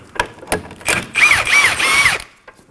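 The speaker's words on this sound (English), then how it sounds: "Using a 17mm socket, we're gonna go ahead and remove this knot." A 17mm socket ratchet loosens a sway bar link nut on a 2016-2020 Kia Sorento, with a few sharp clicks and then three quick rattling ratchet bursts, close and loud.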